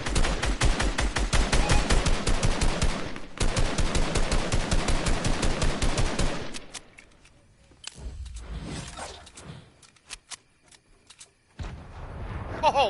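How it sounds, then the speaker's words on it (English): Gunfire in Fortnite: rapid machine-gun bursts rattle loudly for several seconds, then scattered shots and a grenade blast follow with brief quiet gaps between them. "Oh, what a grenade that was."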